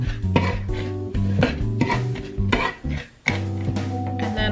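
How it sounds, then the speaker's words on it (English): Dry vegan, gluten-free apple crumble ingredients with a pinch of salt stirred in a dish: repeated scraping and clinking of a utensil against the bowl, loud and close, in uneven rhythmic bursts with brief pauses. "And then I'm gonna stir this up."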